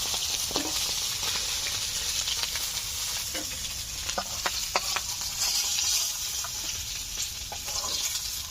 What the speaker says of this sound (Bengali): এই তেলে বাদবাকি মাছগুলোকে ভেজে নিচ্ছি।